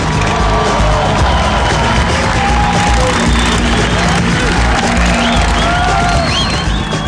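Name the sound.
crowd applauding and cheering the Patriot Chopper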